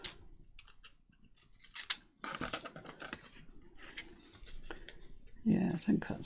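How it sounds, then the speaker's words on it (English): Scissors snip through paper for junk journaling in a series of close, crisp cuts and clicks, scattered irregularly with soft handling rustle and no talking. "Cut the end off."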